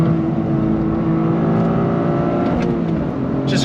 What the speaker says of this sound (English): that 3-cylinder turbocharged engine is definitely doing the business performance-wise